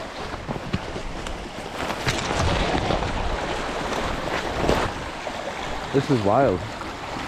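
Meltwater waterfall rushes during an Arctic blizzard while heavy wind buffets the microphone, a steady turbulent roar with gusty swells; someone speaks briefly over it.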